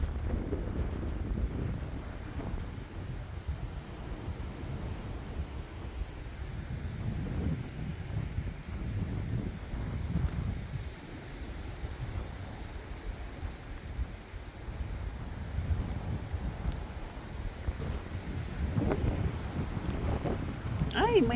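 Strong gusty wind in Wellington roars against the microphone in a continuous low rumble that swells and eases over time, with a person talking intermittently over it.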